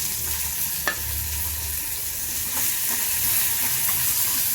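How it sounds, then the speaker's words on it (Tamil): Chillies, tamarind and coconut sauté in a hot pan for karpooravalli chutney, making a continuous loud sizzle with an occasional utensil tap and stirring movements. "நல்லா வதக்கிக்கோங்க."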